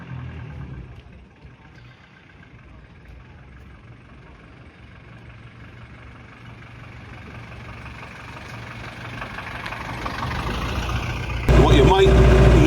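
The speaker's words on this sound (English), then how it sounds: "What you might notice is the background noise. This is actually a diesel." A diesel engine in a vintage Ford Thames van idles as a steady low rumble, growing gradually louder before a sharp, loud rise near the end.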